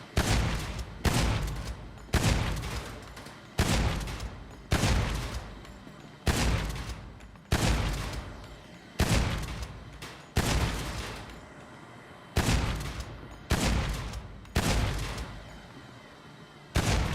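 Video game gunfire in story mode, a series of loud, sharp single shots or short bursts at irregular intervals of about a second, each followed by a brief decaying tail.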